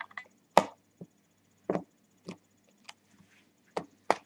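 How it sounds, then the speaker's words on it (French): A deck of playing cards shuffled by hand in a small room during a card magic trick, heard as a quiet series of separate soft slaps and riffles spaced about half a second apart, with no talking. "Donc vas-y, mélange le jeu."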